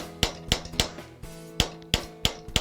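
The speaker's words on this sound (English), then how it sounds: "Now I'm actually not hammering very hard." A metal bracelet hammered over a steel stake with light, regular ringing taps, about seven sharp strikes at a steady pace, close up and alone.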